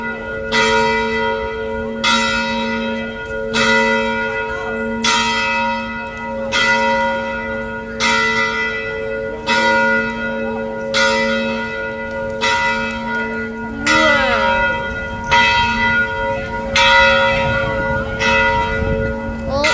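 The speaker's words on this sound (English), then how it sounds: "The bell got done tolling" A church bell in Genoa, Italy tolls on the hour, about ten loud ringing strikes at a slow even pace, each one ringing on into the next, with faint background noise.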